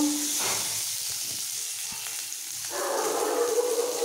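Boiled potatoes go into hot oil and fry, a steady hiss that swells louder after a brief lull, close and even, with no speech.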